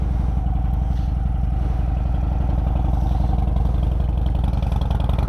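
A 2014 Harley-Davidson Dyna Fat Bob with Vance & Hines exhaust runs close by, its deep, loping rumble steady and loud throughout with no voices over it.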